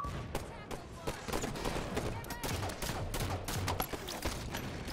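Gunfire in a first-person shooter game, rapid bursts of shots close by over a busy mix, with voices talking over it.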